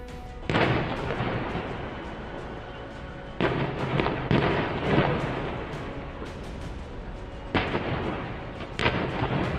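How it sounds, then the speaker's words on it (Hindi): LPG gas cylinders on a burning truck explode one after another in Loni, Ghaziabad, heavy booming blasts at irregular intervals, each followed by a long rumbling roar. "सुन सकते हैं कि कैसे एक के बाद एक कई धमाके हो रहे थे"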